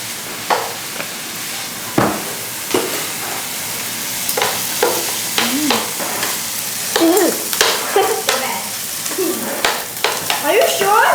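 Rice fries in a pan with soy sauce, a continuous sizzle broken by repeated scraping and tapping as a spatula stirs it, with faint voices in the background toward the end.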